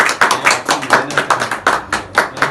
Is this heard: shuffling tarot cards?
no